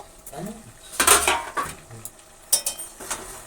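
Metal spoon scraping and clinking against a pan while chicken curry is stirred, in a few short bursts of clatter with quiet gaps between, close and moderately loud.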